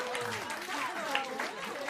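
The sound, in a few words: audience applause at pub quiz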